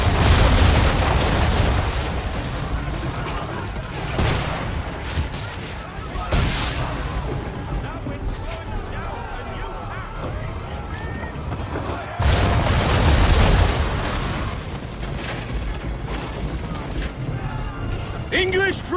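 Cannon fire booms at a ship during a naval battle in Assassin's Creed III, with heavy low blasts early and again near the end and a rumble between them, under dialogue and battle noise.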